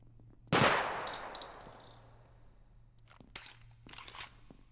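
A single heavy video-game gunshot booms close up and rings out for about a second, followed by a few fainter clicks and short mechanical bursts.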